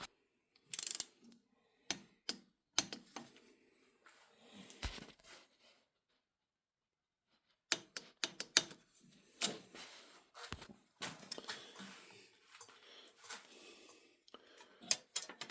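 A ratchet wrench snugs cylinder head bolts on a twin cam Harley engine, giving bursts of quiet close clicking separated by pauses and soft handling noises.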